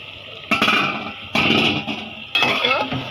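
A lid set down over a pot of beef tripe cooking on the stove, giving three distinct metallic clanks, each followed by a short clattering ring in a home kitchen.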